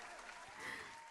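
Canned applause effect played over a livestream music show, a short steady wash of clapping at low level that swells slightly midway, with a faint voice underneath.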